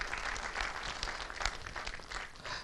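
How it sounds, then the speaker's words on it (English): An audience claps for a speaker at a talk, a dense and steady wash of applause that holds for a few seconds at moderate loudness, heard from within the room with no voices over it. "A big round of applause to this great person"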